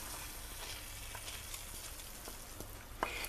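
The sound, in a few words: fried dried mint added to lentil soup, sizzling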